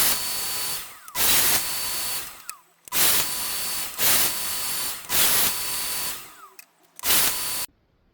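A power saw cuts wood pieces to size in repeated bursts, five or six loud hissing cuts separated by short pauses, with no talking.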